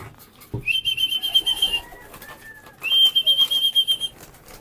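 Young pigeons being fed make soft fluttering and shuffling sounds, with two sustained thin whistling tones that rise and hold for about a second each, up close and without talk.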